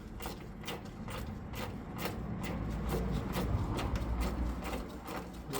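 Threaded trim clips being worked out of a car door, a series of faint, quiet clicks and ratcheting ticks at irregular intervals over a low background hum.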